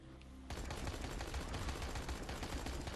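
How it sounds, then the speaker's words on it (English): Submachine gun firing in the video game Dying Light The Following, a dense rapid burst of automatic fire starting abruptly and continuing loud and steady for a few seconds. "This SMG is just so good."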